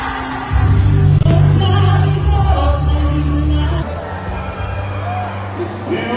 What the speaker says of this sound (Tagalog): Mapapansin nga rito ang hiyawan at tilian ng mga taga-suporta ni Idol Robin Padilla